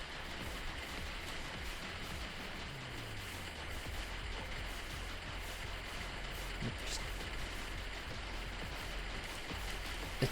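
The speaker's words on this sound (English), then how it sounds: "It sounds like the pitter-patter of rain on a window." Steady pattering like rain tapping on a window, made by drones in the video game Star Survivor, constant and even throughout, with a faint low hum underneath.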